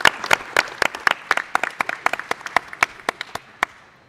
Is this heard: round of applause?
yes